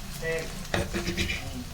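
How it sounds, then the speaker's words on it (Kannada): Okra fries in hot oil for a sambar while being stirred in a pan, giving a steady close sizzle broken by a few scraping, clattering stirs. "ಇವಾಗ ಬೆಂಡೆಕಾಯಿನ ಫ್ರೈ ಮಾಡಿಕೊಂಡು ನಾನು ಮೆತ್ತಗಾಗೋವರೆಗೂ ಚೆನ್ನಾಗಿ ಫ್ರೈ ಮಾಡ್ಕೋಬೇಕು"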